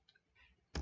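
A single sharp computer mouse click lands near the end, loud and close, after near-silence with only faint background hiss.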